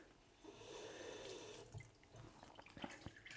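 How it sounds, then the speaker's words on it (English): Water poured gently onto the substrate of a potted plant gives a soft, continuous trickle and splash, then a few faint drips and patters near the end. The sound is quiet and has no talking. "I'm just gonna add a little bit of water on top of the substrate"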